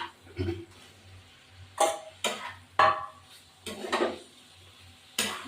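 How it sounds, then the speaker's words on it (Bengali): Figs and potatoes go into a cooking pan with a handful of sharp, close clatters and scrapes spaced a second or so apart, with quiet gaps between them. "এবার আমি এই ডুমুর আর আলুগুলো দিয়ে দেবো।"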